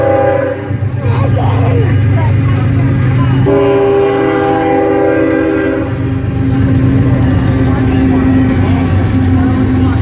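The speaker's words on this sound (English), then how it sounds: "Is it a train?" A train passes close by, its engine rumbling loudly for the whole stretch while long, steady horn tones sound over it and change pitch partway through. Voices can be heard faintly under the noise.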